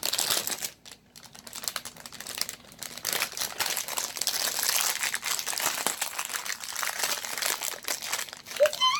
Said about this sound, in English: Let Mommy pre-open the bag